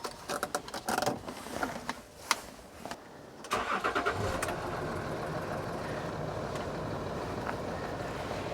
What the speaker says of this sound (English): Going to run the engine.